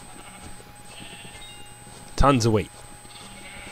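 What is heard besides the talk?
sheep bleating in Minecraft video game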